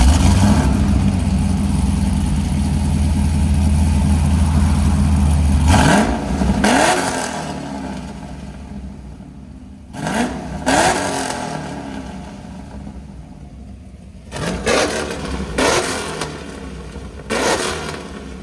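A cammed 2013 Chevy Caprice 6.0L V8 with headers and Borla ProXS mufflers holds a loud, rumbling idle, then fires off several sharp, close throttle blips that rev up and fall back between short pauses.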